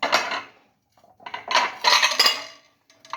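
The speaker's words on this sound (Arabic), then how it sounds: "وعندي هنا 3 مواعين كباب" Heavy kebab serving plates are unboxed and handled, giving several distinct clattering and clinking bursts of ceramic against ceramic, close and fairly loud, separated by short quiet gaps.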